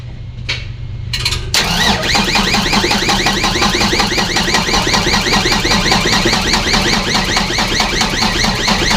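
Isuzu 6WF1 truck engine, run on a borrowed battery from another truck, cranks after a couple of short bursts and catches into a loud, steady, rapidly rattling idle close by.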